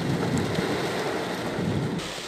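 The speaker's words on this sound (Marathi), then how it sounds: "जबरदस्त पाऊस पडत आहे पुण्यामध्ये" Heavy rain pouring down on the streets of Pune, a dense, unbroken roar close by with a low rumbling underneath and no voices.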